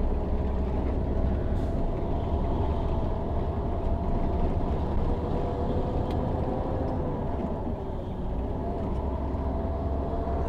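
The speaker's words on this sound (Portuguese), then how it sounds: "Caminhão cortando por ali" A truck passing along a street in Goiânia, a steady low rumble of traffic holding throughout with faint higher tones, no clear approach or fade.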